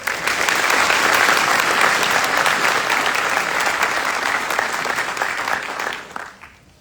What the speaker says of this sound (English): Please join me in a round of applause for the Supporter Awardee